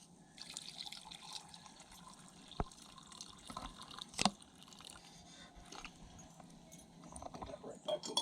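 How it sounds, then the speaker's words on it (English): Hot water poured from a kettle over a campfire into a camp coffee maker, a soft, steady trickle with a few brief clinks and faint background noise throughout. "We're going to pour about 6 ounces in for each."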